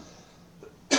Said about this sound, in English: You might hear me cough a little bit.